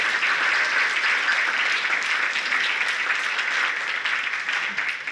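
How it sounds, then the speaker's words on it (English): An audience at a veterans reunion banquet applauds in a dense, loud, continuous wash of clapping that lasts the whole stretch and fades slightly at the end. "Let's give another round of applause."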